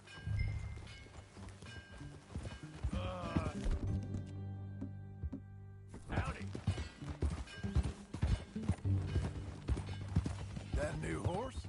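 Steady horse hoofbeats clip-clop in Red Dead Redemption 2 under a man's spoken greeting and other voices, with a brief lull in the middle before the riding sounds resume.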